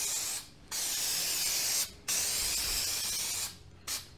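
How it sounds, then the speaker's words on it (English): An aerosol can sprays in three bursts during convertible top replacement on a 1987 VW MK1 Cabriolet, a bright close hiss with short pauses between, the last burst brief. "Sprays out nice, the stuff."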